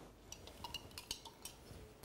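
Spoon stirring alum solution in a glass of water, making faint, scattered clinks and light scraping taps at an irregular pace against a quiet background.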